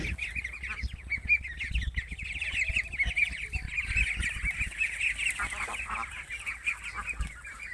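Ducks on a duck farm give a dense, continuous chorus of honking, quacking calls, moderately near and steady, with no talk.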